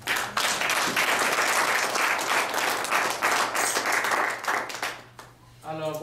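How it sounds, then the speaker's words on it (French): Congregation at an evening church service applauding together, dense sustained clapping for about five seconds that fades out, followed by a voice starting to speak. "Acclamez Jésus"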